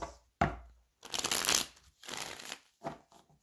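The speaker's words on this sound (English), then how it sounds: "one more shuffle" Tarot cards are shuffled close up in several quick riffling bursts with short pauses between them, no voices present.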